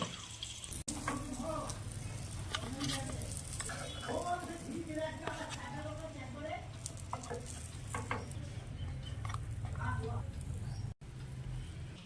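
Egg and eggplant frying in a pan, a steady soft sizzle with stirring scrapes and clinks throughout, while a voice talks over it.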